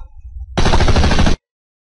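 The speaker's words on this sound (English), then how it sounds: "Pinkie Pie gets out an automatic rifle and blasts you to pieces." Automatic rifle in MLP The Sim Date fires a loud, close burst of rapid gunfire lasting under a second, then cuts off abruptly into silence.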